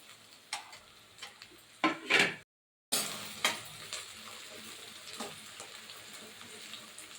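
Onions and tomatoes sauté in a pan for a village-style fish curry, giving a soft sizzle broken by scattered stirring scrapes and clinks, quiet and close, with a brief gap of silence partway through.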